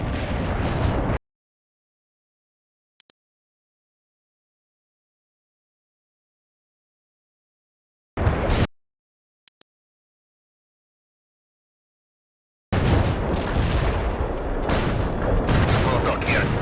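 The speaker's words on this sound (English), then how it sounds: "Artillery strike hit the mark" Artillery strike explosions from World in Conflict: loud, dense bursts of booming impacts at the start and end, separated by a long silent gap with a brief blast in the middle.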